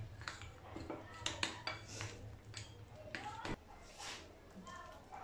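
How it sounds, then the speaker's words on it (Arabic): Batter for fried cauliflower is stirred in a bowl, with quick clinks and taps of utensil on the bowl, close but soft, under a voice talking. "نقلب بقى الخليط مع بعض لغايه ما نشوف احنا عايزينه سمكه عامل ازاي"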